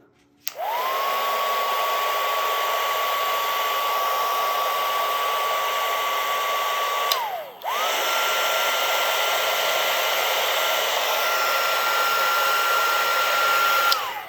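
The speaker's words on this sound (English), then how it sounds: "we need to use our little heat gun to get rid of all those pink lines" Small heat gun running on low to clear pink marks from embroidery, a steady loud whining blow that briefly cuts out and restarts, close by and alone.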